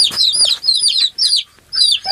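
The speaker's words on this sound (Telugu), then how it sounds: "ఇది అన్ని కోడ్లు అనమాట" Chickens cluck loudly and close in a village coop with young chicks, a rapid run of sharp, repeated clucks broken by a brief pause.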